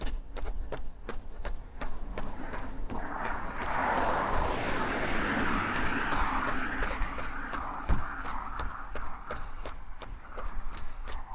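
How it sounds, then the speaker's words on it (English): A small plane, such as a private jet or Cessna, passes overhead with a broad rising and fading whoosh, heard under the steady rhythmic slap of running footsteps. "There's always some good planes to spot. Small little private jets, a lot of Cessnas and stuff."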